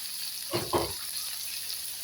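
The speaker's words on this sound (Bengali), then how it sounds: "এগুলো দিয়েও আমি খানিকক্ষণ এগুলোকে ভালোভাবে কষিয়ে নেব" Coriander and cumin powder frying in a pan for an ivy gourd curry with sesame paste, giving two short bursts of sizzle close by over a steady faint hiss.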